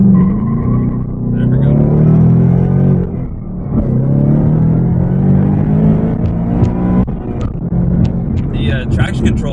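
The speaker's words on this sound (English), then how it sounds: "this is gonna be my first pull in the car" A 2018 Roush supercharged Mustang, rated 700 hp, accelerates hard on a damp road with the engine climbing steadily through the revs in a loud continuous pull. A voice speaks briefly over the run, which is cut short by a sudden shift or interruption near the end.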